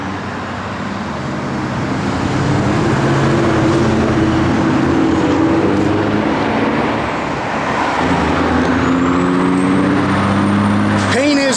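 A 1955 Chevrolet 210 car engine runs with a steady low rumble and some rising revs, loud and continuous throughout, with a brief hiss near the end.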